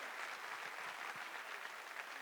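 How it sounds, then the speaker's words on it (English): Audience applause at a human trafficking fundraising event, a steady dense wash of many hands clapping, moderately loud and continuous without voices. "Another round of applause."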